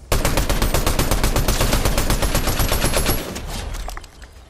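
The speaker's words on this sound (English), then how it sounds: "Oh, they're shooting at us from all the way across." Video game gunfire coming from across the map: rapid automatic shots rattle loudly and without a break for about three seconds, then ease off into a softer, fading tail.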